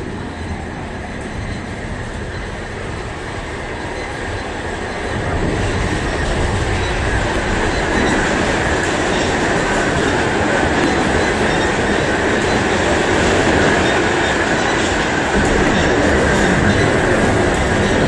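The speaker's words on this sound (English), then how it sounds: "A Manhattan-bound train is now arriving." Simulated subway train in the Trainz game pulling into a station platform, a steady loud rumble of wheels and rail noise that swells and grows louder partway through, with no talking.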